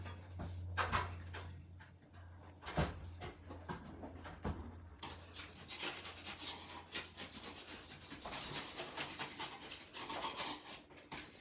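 A 1.5-inch putty knife scrapes and rasps at damaged drywall in quick, irregular strokes, close and fairly quiet, with a low hum beneath and no talking.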